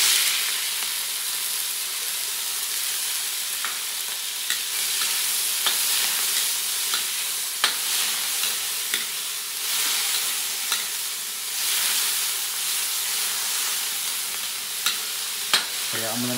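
Ginger, onion and tomato sautéing in hot, smoking oil in a pan for sinigang, with a continuous loud sizzle broken by occasional clicks and scrapes of a utensil, close by, with no talking.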